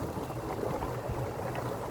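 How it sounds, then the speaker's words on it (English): A nearby creek flows steadily with a continuous low, bubbling wash of water, fairly close and unbroken throughout, with no voices. "Now I'm down closer to the creek."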